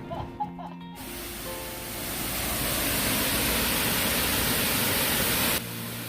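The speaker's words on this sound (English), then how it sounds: "Look, can you hear the sound of the water?" Water rushes steadily beside the parking area of a Korean temple built in 631, a broad continuous roar that swells in after a moment of quieter ambience and holds loud and near.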